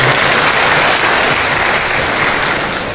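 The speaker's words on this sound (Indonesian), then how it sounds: "Tepuk tangan sedikit Pak." Applause from the audience at a graduation ceremony, a dense, steady wash of many hands clapping close by, continuous for a few seconds and fading slightly at the end.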